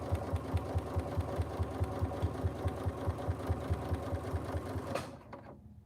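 A sewing machine stitching a corset dress runs at a steady, fast, rhythmic chatter close up, then stops abruptly near the end, leaving a quiet room.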